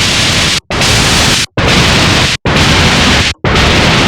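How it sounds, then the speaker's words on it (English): Loud synthesizer white noise plays in sustained hissing bursts, cut by four brief silent gaps into an even, regular on-off pattern with no talking over it. "There's our white noise."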